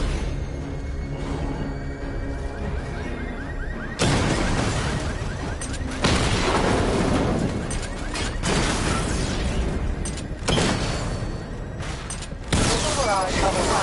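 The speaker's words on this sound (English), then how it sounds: "Destroy targets to charge up weapon energy and activate missile barrage." A missile barrage fires in Batman Arkham Knight with repeated loud bursts and booms in several waves, each a sharp onset trailing into rumbling debris, with whooshing streaks between the volleys.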